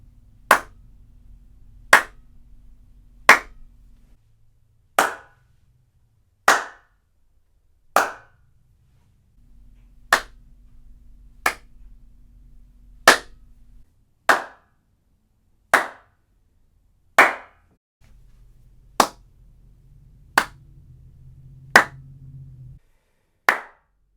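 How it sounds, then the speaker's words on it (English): Single hand claps in an acoustically treated room, about twenty sharp isolated claps spaced roughly a second apart, each decaying quickly, with faint background hum between some of them. "So now let's do the clap test and see how it compares to the first one."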